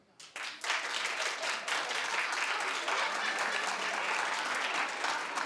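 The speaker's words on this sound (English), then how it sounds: "Clap if you would." Studio audience at a daytime talk show breaks into steady applause, a dense wash of clapping that rises quickly after a brief voice and holds evenly at moderate loudness.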